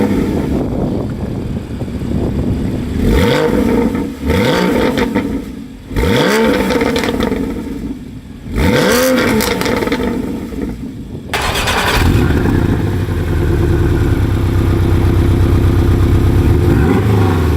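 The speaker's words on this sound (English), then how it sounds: "there's been a lot of complaining about sound of these twin turbo motors" A Porsche twin-turbo engine from a 718 Boxster S or Cayman revs hard in repeated loud bursts, each rising and falling, before settling into a sustained, steady roar as the car accelerates away, with no talking.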